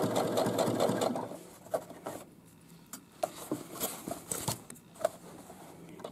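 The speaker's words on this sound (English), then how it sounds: "Alright, so we're going to just keep stitching." Sewing machine stitching the top hem of a fabric boomerang bag, short rapid bursts of needle chatter near the start, then quieter intermittent clicks and knocks of fabric handling, close and fairly soft.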